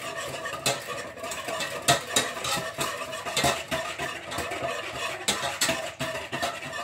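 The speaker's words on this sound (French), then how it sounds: "Je mélange tout ça." Stirring a rice and vegetable gratin mixture seasoned with pepper and nutmeg: a spoon scrapes and clinks repeatedly against a pot in an irregular rhythm, close and moderately quiet, with no talking.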